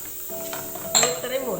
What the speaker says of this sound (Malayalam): തേങ്ങ നല്ലപോലെ ഒന്ന് വറുത്തെടുക്കട്ടെ